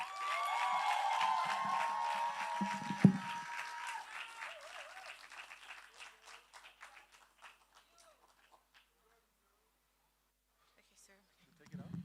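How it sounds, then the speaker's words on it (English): An audience applauds for Margaret Osazuwa at a Reporter Slam Africa event. Dense, steady clapping from the crowd for about four seconds, a sharp thump near the three-second mark, then the applause fades out to near silence. "please give an unforgettable applause to Margaret Osazuwa"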